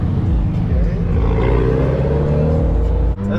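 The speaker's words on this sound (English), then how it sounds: "you heard that supercharger?" A supercharged car engine revs at a car show, a loud, steady low rumble with a whining rise that holds for several seconds, with people talking nearby.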